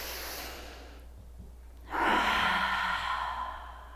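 A deep yoga breath: a faint inhale, a brief pause, then a long, close exhale that swells and slowly fades, heard alone.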